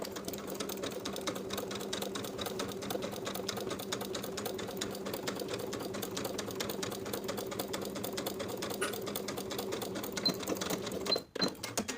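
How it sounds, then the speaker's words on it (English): A sewing machine stitches a bodice seam allowance to the lining of a Colette dress in one long, even whirring run with a fine rapid needle pulse, then stops abruptly near the end. "we'll sew this seam allowance that we pressed toward the lining, sewing it to the lining with about 1/8 of an inch seam allowance straight across"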